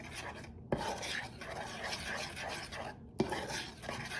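A spoon stirs brown sugar, corn syrup and butter together in a bowl for pecan pie filling, giving a steady scraping swish with a couple of sharper clinks against the bowl, close and moderately loud.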